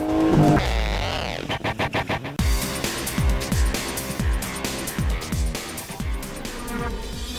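A rally car in the Richard Burns Rally video game launches at full throttle, its loud engine revving up, stuttering briefly, then surging in repeated rising pulses through the gears, with no talk.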